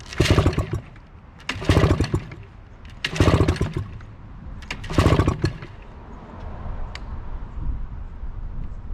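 A 1986 Mariner 5HP outboard motor is pull-started with four loud, close rattling bursts from the rope and engine at even intervals, followed by a low sputtering idle as it briefly catches.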